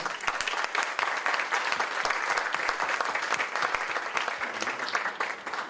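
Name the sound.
audience applause for speakers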